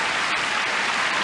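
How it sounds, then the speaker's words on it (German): Studio audience applause on a 1993 German game show, a dense, even wash of clapping that stays steady and fairly close throughout the short stretch. "Ein kleiner Applaus für die Männer."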